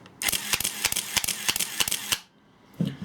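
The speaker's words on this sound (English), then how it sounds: "Got nice sound, these old motor drives and cameras." Rapid mechanical clatter of an old Nikon film camera shutter and motor drive firing a quick continuous burst of about a dozen frames, then stopping.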